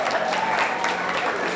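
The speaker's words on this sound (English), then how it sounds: "Can you go ahead and give an applause?" A room full of people at a preview-night event breaks into brief, dense applause, a steady wash of clapping at close range with some crowd noise beneath.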